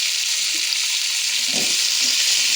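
Jika (ridge gourd), potato and tomato fry together in spiced oil for a fish curry, a dense, steady close-up sizzle with faint stirring scrapes and no talk.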